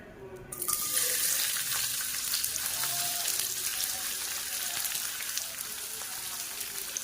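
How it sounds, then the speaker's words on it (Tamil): Sliced onions sizzle steadily as they sauté in hot sesame oil for a spicy beef gravy, starting with a brief quiet moment before the loud, continuous frying hiss that holds close and even throughout. "இந்த வெங்காயத்தை வந்து நல்லா வதக்கிடணும்."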